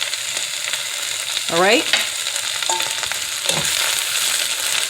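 Cabbage stir-frying in an oiled pan, giving a steady sizzle and hiss with scraping and stirring noises. A voice speaks briefly near the middle.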